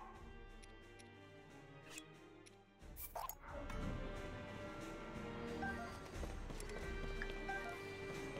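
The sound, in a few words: horse hooves clip-clopping in a video game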